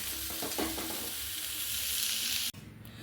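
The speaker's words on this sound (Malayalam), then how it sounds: "നമുക്ക് തേങ്ങ വറുത്തെടുക്കാം." Grated coconut roasting in a pan with a steady dry sizzle and scraping stirs, several quick spoon strokes early on, then the sound cuts off sharply near the end as the heat or stirring stops.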